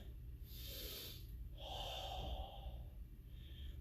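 Deep breaths during a fitness class: a couple of long, audible inhales and exhales, close and airy, with no speech.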